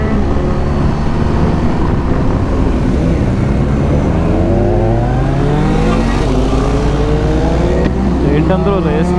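Superbike on the Warangal highway, its engine revving hard and climbing through rising pitch sweeps as it accelerates, loud and continuous with road and wind noise, another engine note rising near the end.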